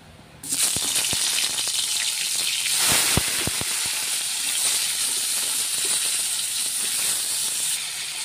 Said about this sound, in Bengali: এখন আমি পটলগুলো ভেজে নেব